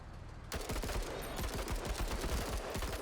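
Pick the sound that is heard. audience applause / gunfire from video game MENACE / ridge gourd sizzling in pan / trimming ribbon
gunfire from video game MENACE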